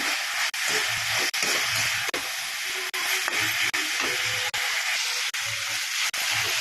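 Vegetables for a vegetable kurma sauté in hot oil, giving a steady, close sizzling hiss broken by brief regular dips as the pan is stirred, with faint low murmurs beneath.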